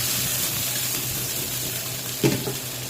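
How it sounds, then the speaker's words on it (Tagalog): Garlic, onion and minced smoked etag sizzle in a pan as they are sautéed, a soft steady frying hiss with a brief clatter of stirring near the end. "Gisa-gisa lang natin yan mga idol."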